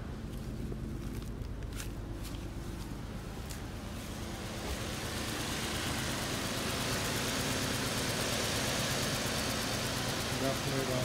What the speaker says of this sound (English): So I'll start the car just to show you how it's running rough.